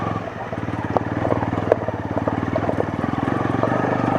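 A Honda CL250 motorcycle engine chugs at low revs in first gear while climbing a steep, slippery slope, a steady, rhythmic thumping pulse at moderate level with a faint voice over it.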